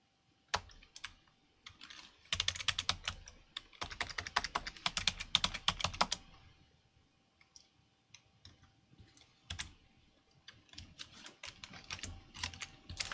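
A password being typed on a computer keyboard during an Ubuntu 20.04 install: close, crisp key clicks in quick bursts separated by short pauses, with no talking.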